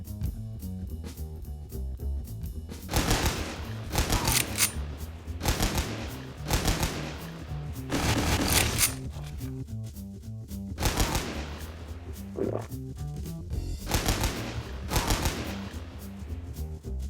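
Repeated bursts of rapid gunfire in the video game Pecaminosa, loud, rattling volleys separated by short pauses over the whole stretch.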